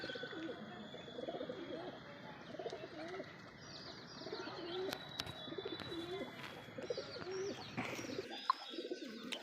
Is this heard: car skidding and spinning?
no